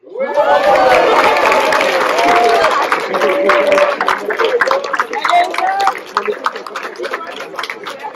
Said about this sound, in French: On l'applaudit jusqu'à son arrivée sur scène.